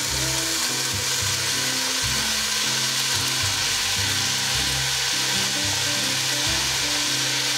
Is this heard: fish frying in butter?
yes